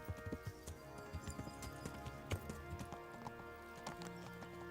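Horse hooves clip-clop in an irregular patter during a video game, with faint game music underneath.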